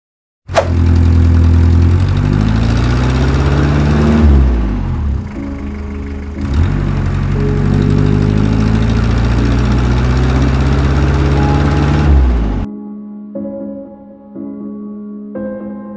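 A motorcycle engine catches abruptly and idles loudly up close for about twelve seconds, dipping briefly once, then cuts off, leaving only faint tonal sounds in the quiet.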